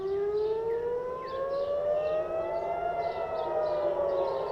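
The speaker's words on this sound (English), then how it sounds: "Again, we can hear these sirens going off here." Air raid sirens wail during a missile launch from Iran, several long rising and falling tones overlapping steadily and loudly over a noisy background for the whole stretch, with no talking.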